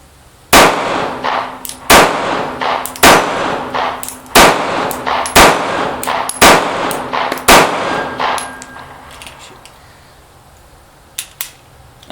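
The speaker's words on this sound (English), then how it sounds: "let me just do a little bit of shooting to show you" A Sig P938 compact pistol fires about ten loud, sharp, close shots at a steady, unhurried pace, each followed by a ringing echo, with a few faint clinks afterward.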